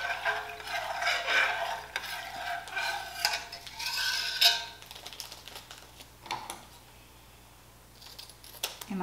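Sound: stirring culture into cooled milk for yogurt

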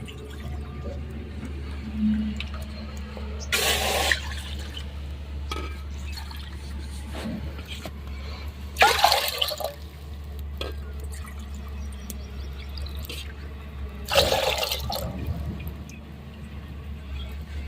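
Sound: water being poured into a pot for sabudana papad

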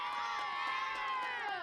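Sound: children cheering

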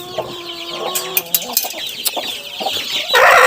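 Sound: broody hen clucking and fighting

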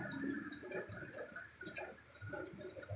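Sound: water rushing in drainage canal

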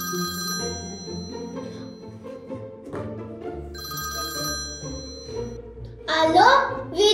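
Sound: telephone ringing

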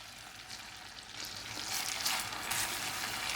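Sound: stirring semolina frying in melted butter in a pan

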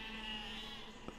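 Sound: burning sheep bleating in the video game Besiege

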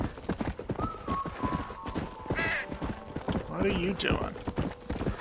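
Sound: horse hooves clip-clopping while riding, from video game Red Dead Redemption

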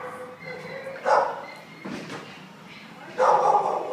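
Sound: German Shepherd mix dog whimpering at animal shelter

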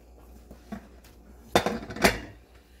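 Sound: flipping keto bread out with a plate on top

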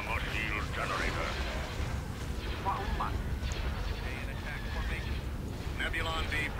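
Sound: blaster and cannon fire in a Star Wars video game

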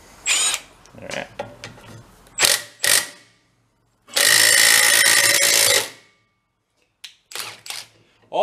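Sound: wrench cranking down on old Harley cart transaxle

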